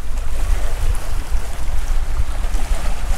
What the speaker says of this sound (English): I've never seen waves like this in such a small